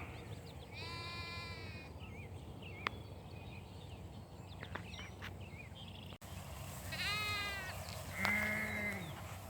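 Ewes and lambs moving to new pasture bleat now and then: a wavering nearby bleat early, a few faint calls, then louder bleats near the end over a soft outdoor background.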